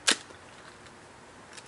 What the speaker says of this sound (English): then squeeze the shutter button